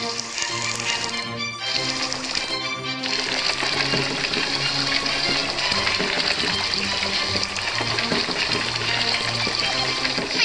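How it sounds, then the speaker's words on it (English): In a children's cartoon game, a hose pours water into a pool as a continuous gushing splash, steady and fairly loud throughout, with brief clicky interface sounds near the start and bouncy music underneath. "Drag the hose to fill the pool with water."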